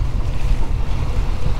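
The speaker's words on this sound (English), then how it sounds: "Oh my gosh, the wind's at my back." Steady wind buffets the microphone with a low, rumbling roar while an ePDL pedal kayak moves across open water on an incoming tide. The wind is continuous and close, with no talking.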